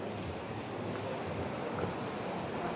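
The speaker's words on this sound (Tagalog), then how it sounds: "Kasi sobrang alon." Rough sea swells wash against the Royal Caribbean cruise ship Spectrum of the Seas, a continuous broad rumbling rush mixed with wind noise, steady and fairly loud, with no speech.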